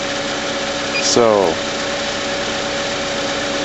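A car engine runs at idle with a steady hum through the whole clip while someone briefly speaks over it, his voice close.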